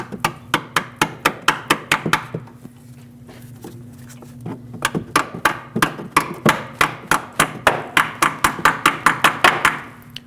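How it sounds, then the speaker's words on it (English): A brake hose retaining clip is tapped into its bracket on a 2013-2019 Ford Escape rear brake, a long run of sharp, evenly spaced metallic hammer taps in two bursts with a short pause between. "I'm going to take this clip, tap it in."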